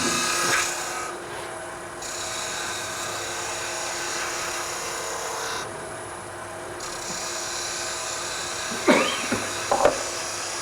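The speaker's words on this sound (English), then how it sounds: "So I'm going to round this edge over to meet my my Forstner cut" A lathe tool scrapes and hisses steadily against a spinning wooden bottle stopper, rounding over its edge, with the pitch dipping at moments and a couple of sharper scratchy bursts near the end.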